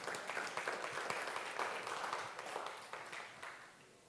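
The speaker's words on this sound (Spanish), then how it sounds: "Dale un aplauso al Señor." A church congregation applauds during a pastor's sermon, a steady wash of many hands clapping together at moderate distance for about four seconds, fairly soft and fading slightly toward the end.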